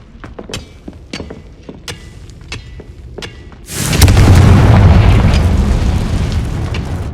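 A Confringo blasting spell from Hogwarts Legacy sets off a loud, booming explosion after a stretch of small crackling pops. The blast's roar holds and slowly fades through the end, with no talking.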